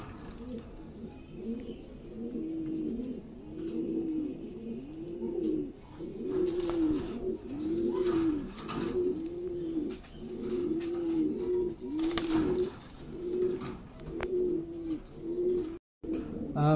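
Yellow Lahori pigeons coo in a steady repeating rhythm of soft, rolling calls, close by, with a few faint background clicks and knocks.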